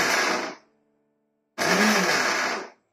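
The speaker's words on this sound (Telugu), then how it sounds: "ఈ విధంగా కచ్చా పచ్చిగా మిక్సీ పట్టుకోండి" A kitchen mixer grinder coarsely pulsing bitter gourd chutney ingredients: two short loud whirring bursts, the first cutting off after about half a second and the second, after a brief pause, running for about a second.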